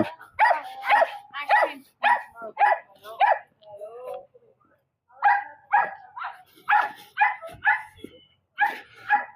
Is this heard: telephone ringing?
no